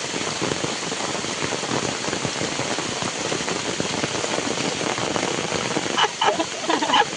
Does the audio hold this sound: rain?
yes